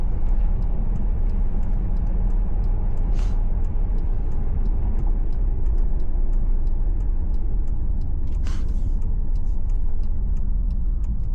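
Maserati GranTurismo cruising in sport mode with a steady low engine drone and road rumble heard from inside the cabin, constant and fairly loud, with two brief whooshes of passing traffic.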